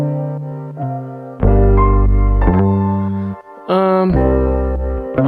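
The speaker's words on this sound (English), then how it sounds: "With the keys, it sounds like this." Keyboard chords played over a beat, loud sustained notes changing every second or so with a bright upper line and deep low tones underneath, no talking.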